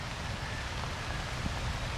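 Steady rain patters continuously, a soft even hiss with occasional faint drops, no voices heard.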